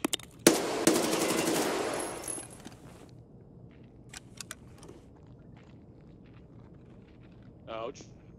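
Automatic gunfire in Escape From Tarkov: a loud sustained burst of rapid shots for about two seconds, then a few sharp scattered single cracks, with a brief voice near the end.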